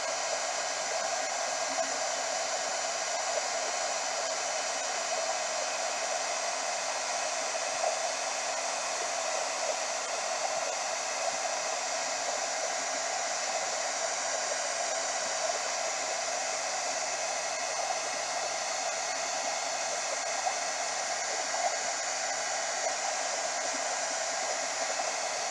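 A heat gun blows steadily to melt craft embossing material, giving a constant, close, airy whoosh with no break and no voices.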